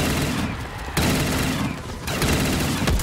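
Video game gunfire rattles in continuous, loud, close bursts with a few sharper shots standing out, filling the whole moment without pause.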